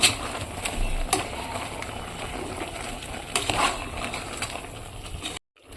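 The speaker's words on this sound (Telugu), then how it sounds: "మనం ఇప్పుడు ఈ మసాలానంతా బాగా మిక్స్ చేసుకోవాలి" Spice masala being stirred through mutton curry in a pan, a steady scraping stir over a low bubbling sizzle with a few sharper clinks, close and moderately loud, with no talking.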